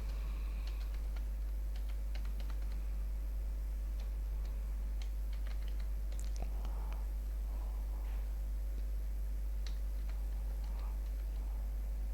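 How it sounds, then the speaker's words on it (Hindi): Dates are typed on a computer keyboard into an MS Excel spreadsheet: scattered light key clicks and taps in uneven bursts over a constant low hum, close and fairly quiet. "डेट ऑफ बर्थ टाइप करेंगे।"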